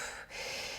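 A deep breath drawn during a power yoga session in a Malasana squat, a single airy inhale under a second long, close and soft, with no talking.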